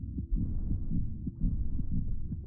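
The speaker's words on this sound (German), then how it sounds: "Man hört einen Herzschlag und sowas halt" A deep, muffled heartbeat in a scene depicting a birth, a steady low throbbing pulse with paired thumps repeating about every half second under a continuous hum, no voices present.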